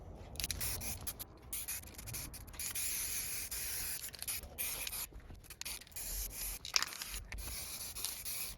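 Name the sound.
spray primer being applied to an Xbox One S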